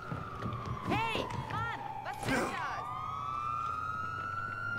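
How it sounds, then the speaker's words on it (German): An ambulance siren in the video game Watch Dogs 2 wails in a long rising and falling sweep, loud and steady, while someone speaks over it near the start. "Krankenwagen!"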